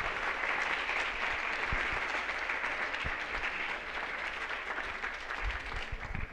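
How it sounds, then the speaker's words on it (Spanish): Sustained applause from the audience at a pro-life congress, a thick, even roar of clapping lasting several seconds that eases slightly toward the end, with a few low thumps mixed in. "Un fuerte aplauso para ellos"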